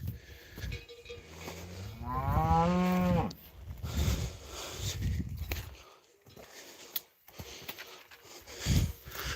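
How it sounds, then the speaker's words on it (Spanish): Cattle on a farm moo loudly and nearby, with one long drawn-out low call and shorter grunts and calls around it, mixed with rustling and movement. "Aquí arriba, aquí son las más vacas"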